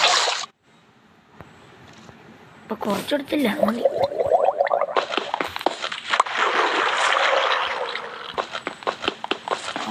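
Water placed beside granite blocks flows and sloshes in Minecraft while building a stone generator, a steady splashing rush under a person talking.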